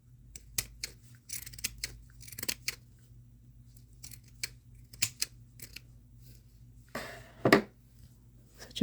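Scissors snip through fabric for a bow center, close and fairly quiet, with a series of irregular crisp cuts and light rustling of material between them.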